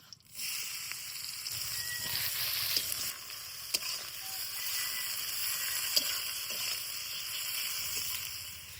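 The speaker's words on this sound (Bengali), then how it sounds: "এবার ওই তেলের মধ্যে দিয়ে দিব হচ্ছে পেঁয়াজ কুচি" Chopped onion sizzles steadily in fish oil in a pan, a continuous bright frying hiss at moderate level with occasional small clicks of stirring, no talking.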